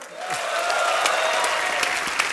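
A studio audience on an Indian comedy talk show gives a burst of loud applause. It is dense, sustained clapping from a full crowd, with a faint voice briefly underneath.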